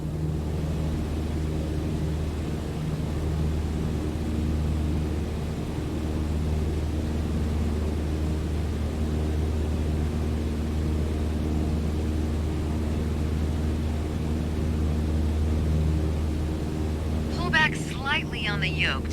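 A steady, droning aircraft engine at full throttle during a climb in Microsoft Flight Simulator 2020, a constant low hum with no change, ending with a brief burst of other sound.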